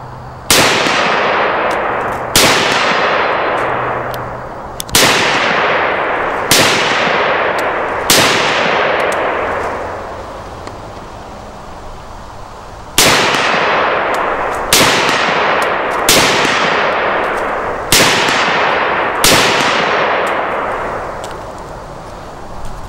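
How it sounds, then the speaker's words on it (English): Rasheed 7.62 rifle fired outdoors, eleven loud, sharp reports in uneven groups, each ringing out in a long fading echo. "Got the Rasheed. I'm going to shoot it, and then we'll let Fidel shoot it"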